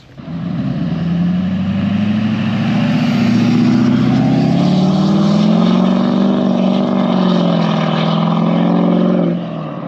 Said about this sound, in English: S369 incoming on the old LBZ Duramax